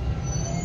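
Metro train running on the line between Noida Sector 52 and Mayur Vihar Phase 1, heard from inside the carriage as a steady low rumble with faint wheel hiss, no talking.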